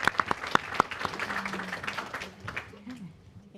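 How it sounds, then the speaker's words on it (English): An audience applauds panelists at a humanitarian and peacebuilding conference, steady clapping from a room full of people with a few sharp near claps at the start and faint voices underneath. "I invite you to really clap hands for our panelists today"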